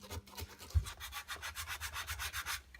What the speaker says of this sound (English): for this groove here, I've got some sandpaper on a dowel